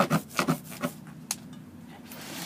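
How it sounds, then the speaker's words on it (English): A cloth wiping the chain of an AJS Eco 2 125 motorcycle, giving several soft rubbing strokes in an uneven rhythm, close and quiet, with no one talking. "just give the chain a wipe off"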